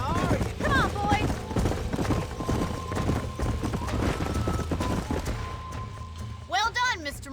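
Horses' hooves clip-clop rhythmically across the ground in Red Dead Redemption, a busy trotting patter close by, with horses whinnying and people talking over it.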